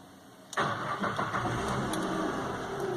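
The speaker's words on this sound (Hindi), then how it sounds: "इंजन ऑन कर दिया मैंने, आवाज आ रही होगी" A car engine cranks and catches with a sudden burst, then settles into a steady, fairly loud idle rumble close by.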